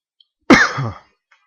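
A single short, sharp cough, close and loud, in otherwise quiet surroundings.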